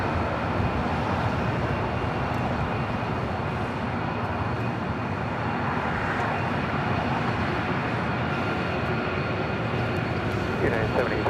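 An Emirates Airbus A380 takes off at LAX, its engines giving a dense, unbroken rumbling roar that stays loud and even for the whole stretch, with no voices heard.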